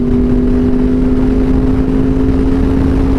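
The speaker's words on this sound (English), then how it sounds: "I love how that bike sounds" A Honda VFR800 sport touring motorcycle with a shorty exhaust pipe idles steadily, a loud, close, even engine drone with a strong low hum throughout and no talking.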